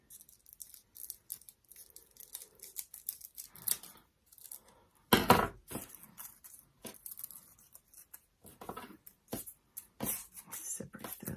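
Scissors snip through paper for a pine cone craft in a series of close, crisp cuts and rustles, with one louder crunching cut partway through and irregular spacing.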